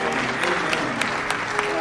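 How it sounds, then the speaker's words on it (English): A church audience at an evening gathering gives appreciative applause, a steady wash of clapping with a few sharper rhythmic claps standing out, beneath a sustained musical tone. "Give another appreciative applause."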